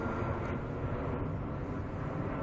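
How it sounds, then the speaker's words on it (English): A Boeing 747 jumbo jet flies overhead, a steady broad distant roar of jet engines that fills the air without pause, with no voices over it. "there's a 747 jumbo jet overhead."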